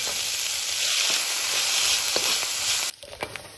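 Corn, carrot and onion fry in a tablespoon of hot oil for shrimp fried rice, a loud, dense sizzle with soft stirring scrapes, dropping abruptly near the end to quieter intermittent crackles.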